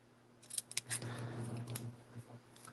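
Scissors snipping through craft material for holiday decorations, a few sharp close cuts followed by a longer sliding slice, with no talk over it.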